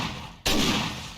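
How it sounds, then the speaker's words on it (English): A single loud shotgun blast fires in a video game, a sudden sharp boom that decays over about a second, with no talking. "Shotgun to the head for the win."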